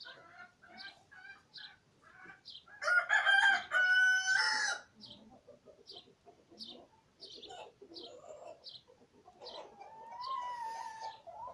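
Chickens cluck around a backyard chicken run while a rooster lets out one loud crow partway through, with scattered clucks and calls before and after.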